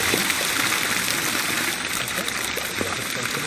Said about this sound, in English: We are going to add a placeable sound effect from nature